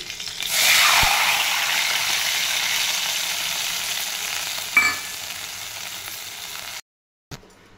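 Water poured onto a hot fried spice tempering hits the oil with a sudden loud sizzle that settles into a steady hiss, with a brief clink midway before it cuts off.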